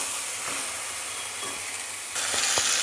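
Spiced ash gourd curry being sautéed in a pan: a continuous sizzle with a few scraping stirs, the frying growing louder near the end, close and without talk.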